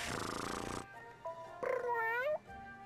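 A cat in the video game Bravely Second, a short purring rumble followed by a rising, warbling meow-like cry, close and fairly loud against quiet game background.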